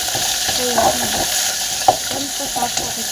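Greens fry with onion and green chili in hot oil, giving a loud, steady sizzle with intermittent scraping and clinking from a spoon stirring the pan; a voice is faintly audible under the sizzle.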